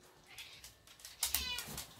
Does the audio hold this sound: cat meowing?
yes